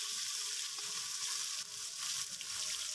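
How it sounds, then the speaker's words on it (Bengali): Fresh koi fish frying in hot oil while being stirred, a steady broadband sizzle with faint scraping and stirring noises running throughout, no talking. "নাড়াচাড়া করে দিয়ে একটু ভাজবো।"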